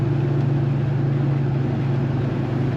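A 1972 Chevrolet K20 Cheyenne Super 4x4 lifted truck idles with a steady, continuous low rumble, close and loud throughout with no talking.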